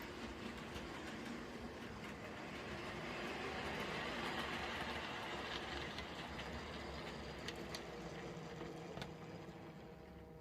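A Lima HST model train in Intercity livery runs steadily along the track, giving a faint, continuous motor hum and a light rolling rattle with occasional small clicks, and no voices.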